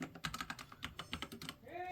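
Keys tapped in a quick, uneven run on a newly unboxed computer keyboard, close and fairly loud, with a rising tone near the end.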